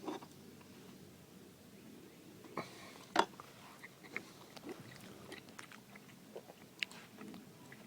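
Someone eats a piece of grilled ribeye steak cooked reverse-sear on a Weber kettle grill, producing quiet, close chewing and biting with a few sharper crunchy clicks spread out over the moment.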